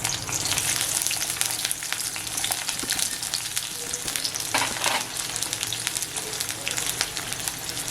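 Chopped onion frying in tempering oil in a pan for Maharashtrian onion chutney, giving a steady, dense sizzle throughout with occasional stirring scrapes, close and continuous with no talk.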